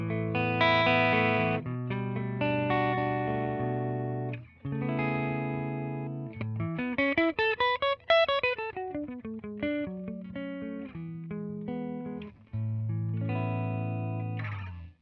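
An electric guitar plays clean chords and a rising-falling single-note run through a 1967 blackface Twin Reverb on its normal bright input with the gain raised, slightly hairy, sustained and close.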